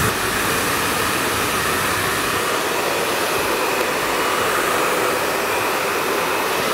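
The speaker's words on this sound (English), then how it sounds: "Then a bit of root lift to give it direction. And then just to blow dry it back." A hair dryer blows a steady, loud, broadband roar without a break while mid-length hair is blow dried back from the crown.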